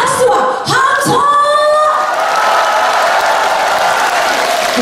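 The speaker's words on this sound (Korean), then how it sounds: "같이 즐겨주실 분들만 박수와 함성!" A concert audience at the Gunsan TOP10 pop song show cheers with whoops at first, then breaks into loud, steady applause that fills the hall.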